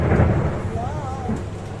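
Thunder during early-morning rain, a low rolling rumble at moderate distance over a steady wash of rainfall, lasting under two seconds with no talk.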